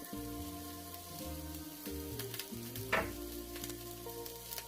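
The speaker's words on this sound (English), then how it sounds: "you keep your heat on medium, and you saute your onion." Onion sautéing over medium heat in a pan for pancit bihon, a soft steady sizzle under a faint background hum of tones, with one brief louder clatter near the middle.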